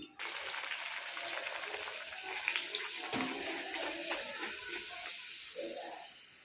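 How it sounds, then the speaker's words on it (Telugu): Hot water is poured into wheat flour dough mixed with semolina, sugar, oil and salt for puri, giving a steady close pour that runs for several seconds before tapering off, with no speech over it. "హాట్ వాటర్ వేసి కలుపుకోవాలి"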